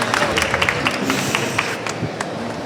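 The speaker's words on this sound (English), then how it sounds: "Please give a big warm applause to UpSight" An audience at a young entrepreneurs' pitch session at an architecture congress in Copenhagen gives warm applause, a thick wash of clapping with a few sharper claps standing out, easing off toward the end.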